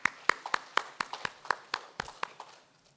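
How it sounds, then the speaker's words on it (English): Applause from a conference audience at an AI engineering summit in Bengaluru, sparse and fairly faint, with distinct individual claps in an uneven rhythm that thin out and fade over about three seconds. "Let's give them a big round of applause"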